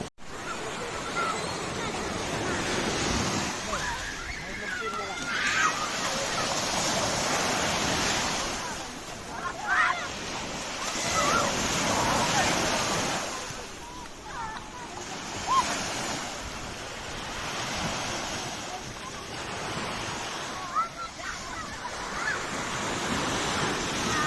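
Sea waves break at a beach on a Sunday family outing, a steady near roar of surf swelling and receding every few seconds under heavy wind buffeting the microphone, with faint voices in the background.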